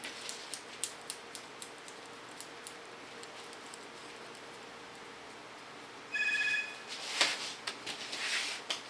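A telephone rings in a hair salon with a short burst of electronic ringing, preceded by a series of faint regular ticks from scissors snipping hair.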